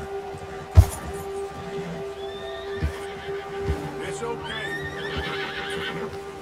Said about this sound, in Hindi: कभी कभी घोड़ा एजिटेटेड हो जाता है